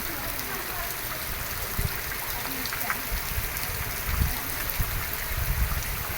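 Heavy rain pouring down outdoors during the paddy season, a dense steady wash of water noise with a few low thumps, and people talking faintly beneath it.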